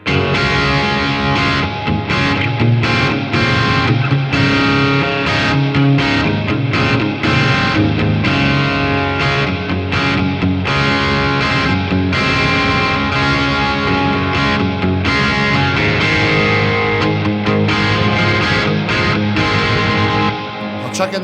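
Dry guitar from an Astoria blended with the wet echo of a Boss RE-202 tape echo pedal: a loud, continuous, distorted stretch of playing with repeating strummed attacks and smeared echoes over about twenty seconds.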